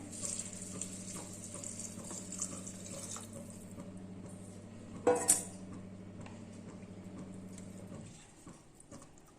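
Water is poured from a glass onto basmati rice in a pot for ghee rice, a quiet, steady wash over a low hum with one sharp clink midway, stopping abruptly near the end.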